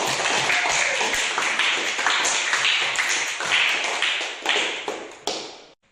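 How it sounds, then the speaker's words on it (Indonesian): A classroom group of students claps after a group presentation in a physical education lesson, quick uneven hand claps that come close and loud for several seconds, then trail off in a few final slaps. "kita berikan tepuk tangan"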